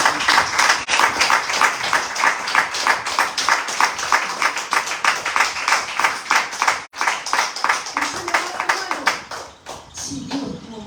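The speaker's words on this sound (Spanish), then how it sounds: "Denle aplauso." A church congregation claps in a fast, rhythmic unison beat at a sermon service, loud and close, with a brief dropout midway and voices mixing in near the end.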